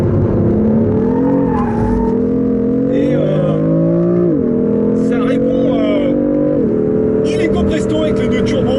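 BMW M3/M4 twin-turbo six-cylinder engine revving loudly and steadily, its pitch climbing through the gears with brief dips at each shift, heard up close over the full stretch.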